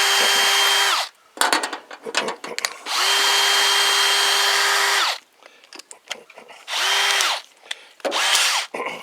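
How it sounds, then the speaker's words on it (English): Large power drill biting through heavy steel for camper tie-down mounts on a Tacoma, running in three loud bursts of steady whining grind, with clattering handling noises in the pauses between them. "Torque on that drill."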